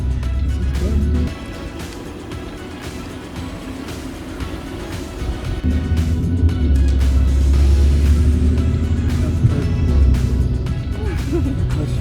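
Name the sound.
car driving on road, learner driver accelerating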